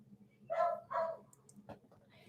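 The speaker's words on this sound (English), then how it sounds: "My dogs are barking" Dogs give two loud, close barks in quick succession, followed by fainter yips and whimpers, over a low background hum.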